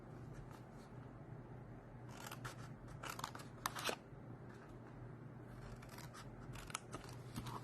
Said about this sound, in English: I am cutting these 2 square off.